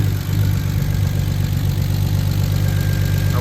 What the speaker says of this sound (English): Seems like the idle's settling out.